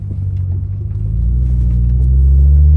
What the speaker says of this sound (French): de l'intérieur, on entend un ronronnement